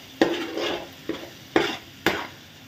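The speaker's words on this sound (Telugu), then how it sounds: "మొత్తం ఒకసారి మిక్స్ చేసేసుకుంటున్నాను." A spoon stirs tomatoes and spices in a pan for prawn curry, making four sharp scraping strokes over a soft sizzle, close up with no talking.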